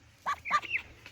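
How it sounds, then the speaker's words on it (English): A pet duck on a home bird-keeping setup gives a few short nasal quacks, close and fairly soft, in quick succession over a low background hum. "Yes, quack."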